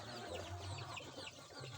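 Crested jambul chickens in Ujung Kulon cluck softly and steadily at close range, with low rhythmic calls carrying through a continuous rustling background.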